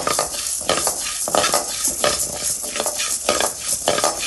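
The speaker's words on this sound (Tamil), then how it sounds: "இப்போ கடலைப்பருப்பு நல்லா வறுத்து செவந்துருக்கு" Chana dal (Bengal gram) dry roasting in a pan for curry leaf podi, with loud, rhythmic scraping stirs and a rattling of dry lentils repeating about twice a second, close and without speech.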